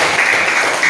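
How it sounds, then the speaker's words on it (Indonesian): A fifth-grade primary school class claps hands together in the classroom, a brief, dense, steady burst of many hands at close range. "Oke, tepuk tangan dulu semua."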